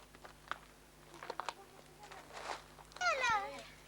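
A small kitten meows once near the end, a short high rising-and-falling cry after quiet rustling and faint background voices at a village home.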